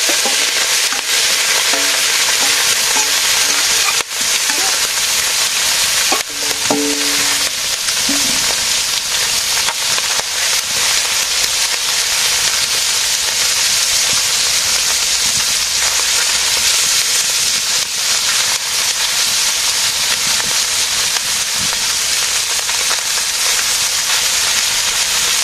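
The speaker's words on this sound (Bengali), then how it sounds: "তেল গরম হয়ে গেছে, মাছ কটা ভেজে নেই।" Small fish fry in hot oil in a village kitchen, a steady loud broadband sizzle that holds unbroken for the whole stretch, with a few brief clinks and knocks near the start and no talking.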